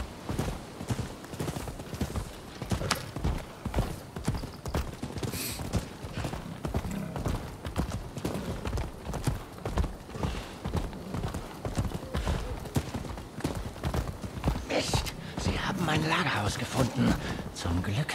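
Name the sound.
horse hooves while riding, from video game Rise of the Ronin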